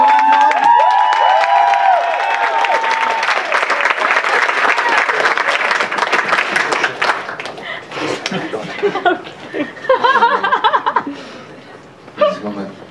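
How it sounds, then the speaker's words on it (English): A comedy club audience cheers and claps loudly for a comedian taking the stage, with whoops at the start and laughter mixed in. The clapping thins out as a voice begins speaking. "so we have an extra loud and long clap"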